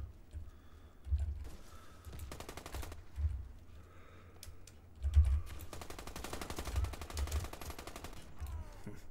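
Rapid automatic gunfire from the SA Hellion rifle in a first-person shooter comes in several bursts of quick, evenly spaced shots. The bursts sound moderately loud, with quiet gaps between them and faint keyboard clicks underneath.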